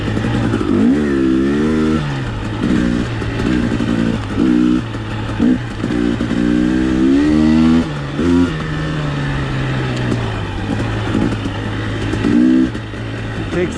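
A 2021 300XC dirt bike engine on a mountain ride revs up and down close by, with a steady, loud buzzing drone that rises and falls with repeated throttle blips throughout.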